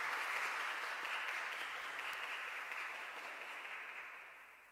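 A church congregation at a Mass for the feast of St Thomas the Apostle claps steadily to welcome the priests, an even wash of applause that fades slightly toward the end.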